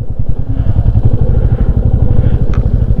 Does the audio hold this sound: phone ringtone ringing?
no